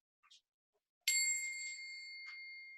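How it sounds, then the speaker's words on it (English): The smallest Tibetan singing bowl is struck once and gives a bright, close metallic ring that hangs on and slowly fades, after a couple of faint small taps beforehand. "Let's ring the little smallest bell. Oh, the smallest Tibetan bowl."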